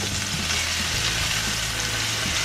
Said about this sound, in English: let's just go ahead and start adding in the onions, and we'll get them nice and clear